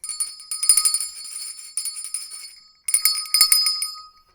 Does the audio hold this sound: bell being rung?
yes